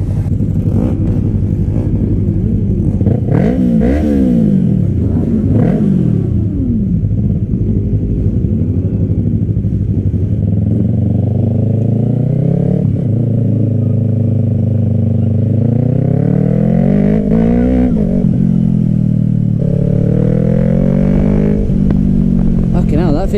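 A Yamaha R3 motorcycle engine revs and accelerates hard on a top-speed run at Henstridge Airfield, loud and close, the pitch rising and falling through gear changes while people talk over it.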